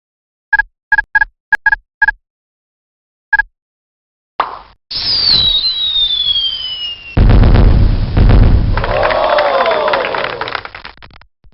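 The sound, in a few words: fireworks in Mighty Math Number Heroes video game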